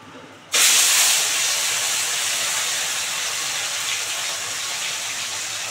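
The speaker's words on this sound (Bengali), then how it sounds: "এবার মাছগুলো ভালো করে কড়া করে ভেজে নেব" Pieces of rui fish drop into hot oil in a wok and set off an abrupt, loud, steady frying hiss that stays strong and even for several seconds, with no talking.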